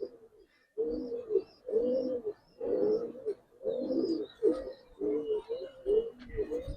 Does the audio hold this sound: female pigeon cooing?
yes